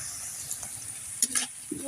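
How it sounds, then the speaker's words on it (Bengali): Dried fish, chili, onion and garlic fry together over a clay stove, giving a soft steady sizzle with a few brief stirring scrapes and clinks near the end. "শুটকি মাছ মরিচ পেঁয়াজ রসুন একসাথে ভেজে নেব ভালো করে"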